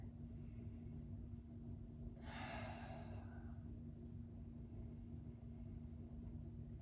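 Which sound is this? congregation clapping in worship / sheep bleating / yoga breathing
yoga breathing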